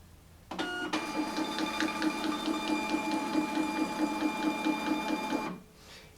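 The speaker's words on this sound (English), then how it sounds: "I'm going to print 20 labels at full speed." A Zebra ZD420 thermal barcode label printer runs at full speed printing a batch of labels, a loud mechanical whir with quick, regular ticking pulses that starts suddenly and stops cleanly after about five seconds.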